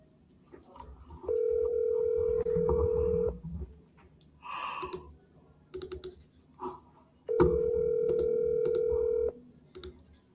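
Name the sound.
phone call ringing before voicemail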